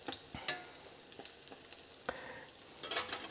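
Zucchini blossom fritters frying in hot oil give a steady, fairly quiet crackle with scattered sharp pops throughout and no voices.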